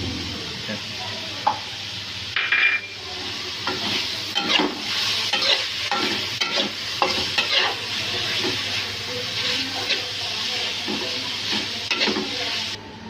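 Rice stir-frying in a pan as white and black pepper are added, a steady sizzle broken by repeated scraping and stirring strokes of a utensil, close and fairly loud.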